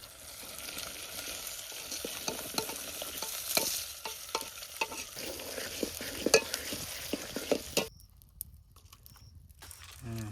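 Garlic and green chillies frying in a pan for Maggi outdoors on a farm, a steady sizzle broken by repeated scraping stirs, close and fairly quiet, the sizzle dropping away near the end.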